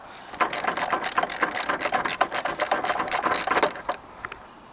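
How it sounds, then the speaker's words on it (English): A socket ratchet undoes a bolt on the radiator of a Land Rover Discovery 2 TD5, giving a close, steady run of rapid clicking pawl strokes over about four seconds before it stops. "Right, just about get a socket in there."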